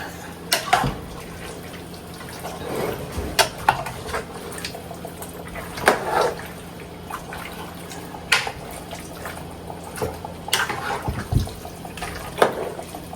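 A wet blend of garlic, scallion, thyme and onion green seasoning is stirred in a bowl, giving soft irregular sloshing and scraping knocks at close range with a faint background hum.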